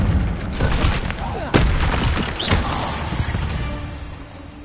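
An Incendio fire spell from Hogwarts Legacy flares with a whooshing burst and sharp crackling impacts over game noise, with a strong hit partway through and a shorter flare after it.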